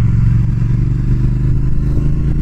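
The 2019 Triumph Speed Twin motorcycle's engine pulls hard in sport mode, a loud, close, continuous low growl with rattly mechanical clatter and no let-up.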